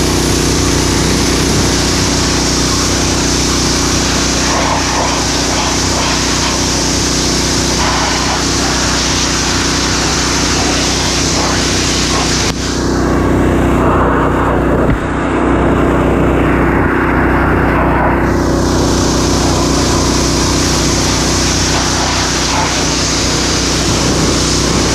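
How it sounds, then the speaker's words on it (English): A small lawn mower engine running steadily after repair, a loud continuous drone with a low, even idle hum and no break in the sound. "this lawnmower is running well now"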